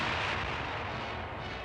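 Bazookas firing in a German city during the Second World War, a brief, loud, rumbling blast that fills the short moment without a break.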